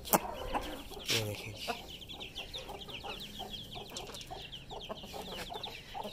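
Chickens cluck and chatter repeatedly around a small farmyard, with chicks among them, in a busy, moderately loud stream of calls close by.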